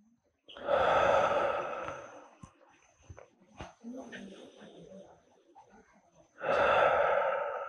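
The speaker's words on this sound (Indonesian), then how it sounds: "hembuskan nafas kembali ke Adho Mukha Svanasana" Two long, loud breathy exhales during a yoga sequence returning to downward-facing dog, one at the start and one at the end, with quieter rustling and soft breaths between them.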